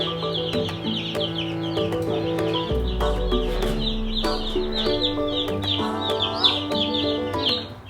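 Meat-bird chicks on a feeder in a brooder peep and cheep busily over a steady low hum, with occasional louder chirps and clucks close by; no one speaks.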